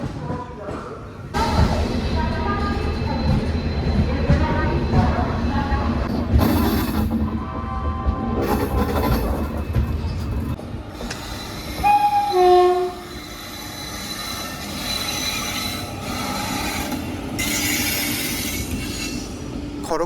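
A train at Kharagpur railway station rumbles and clatters along the platform, with a horn sounding and wheels squealing in bursts, while people talk over the busy station noise.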